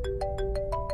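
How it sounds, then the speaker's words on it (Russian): A mobile phone ringtone plays loud and close, a bright repeating melodic tone pulsing about six times in a second with no talk over it. "Ну ответь, раз звонят."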